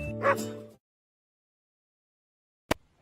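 A big dog lets out one loud, close bark that drops into silence, followed by a single sharp knock or click a couple of seconds later.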